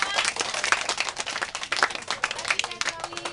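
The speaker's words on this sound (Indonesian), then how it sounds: "Kita berikan tepuk tangan untuk mereka semua." Audience clapping for volunteer performers after a short anti-bullying drama: brisk, fairly close applause from a modest crowd, with voices talking over it.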